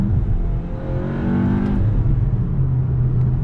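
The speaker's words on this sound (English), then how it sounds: "There's some nice little induction noises and turbo noises happening there" A turbocharged car accelerates hard with a close, loud engine drone, rising induction and turbo whine sweeping upward, then settling into a steady rumble, with no talking.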